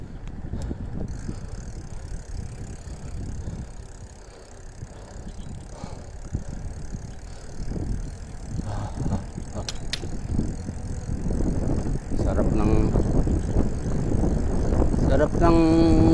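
Bicycle rolling downhill on a solo ride toward Layong Mabilog, Maragondon, Cavite, with rushing wind buffeting the microphone, a continuous rumble that grows louder toward the end, with occasional voices.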